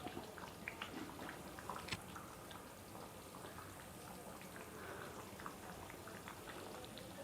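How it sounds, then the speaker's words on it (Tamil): Tamil bottle gourd, drumstick and dried fish curry simmers on a stove, giving a steady close bubbling and crackling with scattered small pops, continuous with no voices. "சிம்மில் வச்சுட்டு நல்லா கொதித்து அது வாட்டி எண்ணெய் பிரிஞ்சு வந்துடும்"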